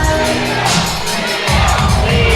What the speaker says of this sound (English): The crowd's out here. They're getting hyped.